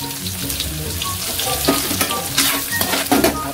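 Onions fry in a pan with garlic for pork-lung bopis, a continuous close sizzle broken by a few louder stirring scrapes, with no voices.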